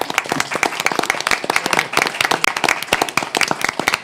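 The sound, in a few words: round of applause at city meeting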